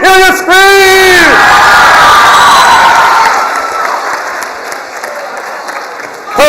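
A school crowd, likely students at a game-style assembly, erupts in loud screams, whoops and cheering that swell, then slowly fade over several seconds into scattered applause.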